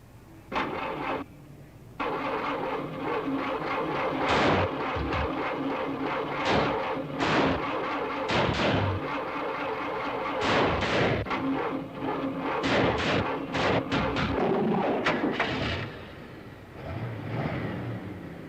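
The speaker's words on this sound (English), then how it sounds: "Start your engine, please." A car engine starts and revs during a driving test, with loud, uneven bursts of sputtering and roaring, while engine noise dominates throughout.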